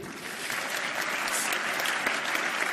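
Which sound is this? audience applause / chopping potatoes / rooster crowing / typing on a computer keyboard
audience applause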